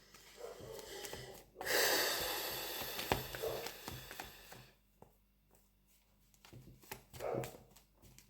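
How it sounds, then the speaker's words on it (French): Neighbouring dog next door barks and whimpers in scattered bursts, some loud and close, with snorting between and quiet gaps. "elles excitent le chien à côté, quoi"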